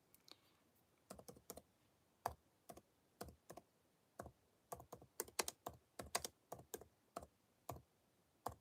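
Irregular keystroke clicks on a computer keyboard as someone types in a quiet room, bursts of crisp taps spaced with short pauses, near and fairly soft, with no talking.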